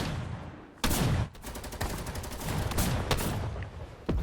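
Rapid gunfire in the Fortnite video game, with dense, continuous bursts of shots and a few sharper loud cracks standing out over the constant rattling barrage.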